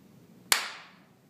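A single sharp hand clap, loud and close, rings out alone in a quiet room and decays over about half a second to mark the start of a recording.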